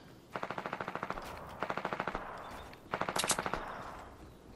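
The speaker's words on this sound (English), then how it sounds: "I don't think that's accidental shooting." Rapid automatic gunfire from the Fortnite video game comes in three separate bursts, each a quick string of evenly spaced shots, moderately near with no talk over them.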